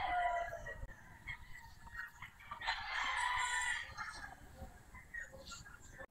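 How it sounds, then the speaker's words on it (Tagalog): A gamefowl rooster crows once in the middle of the clip at a gamefowl farm, loud and fairly close, with faint farmyard noise around it. "ito pa yung mga manok ni Serbi"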